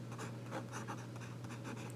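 Pilot Varsity fountain pen nib scratching across paper in steady strokes, close and faint over a low background hum.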